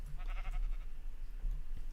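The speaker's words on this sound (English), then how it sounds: "Hey sheep, you want to join your friend?" A sheep in a video game bleats several times in quick wavering bursts, followed by a softer bleat near the end, over a steady low background hum.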